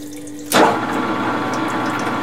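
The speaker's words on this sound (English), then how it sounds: "Flood coolant on." Flood coolant starts flowing on a drill press, a sudden broadband gush of liquid that then settles into a steady, close hiss of running fluid with a faint motor hum underneath.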